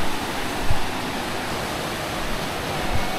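The fast-flowing Kalpganga river rushes nearby in a loud, steady, unbroken roar of churning water with no voices.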